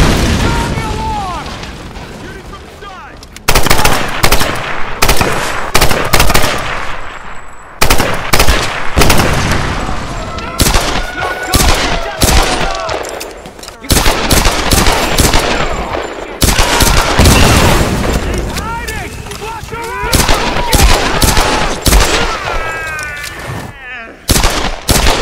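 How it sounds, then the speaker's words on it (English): Heavy gunfire in a Tomb Raider film battle scene: loud, dense bursts of automatic shots and booms that keep going with brief gaps, mixed with shouting voices. "Shooting from the side!"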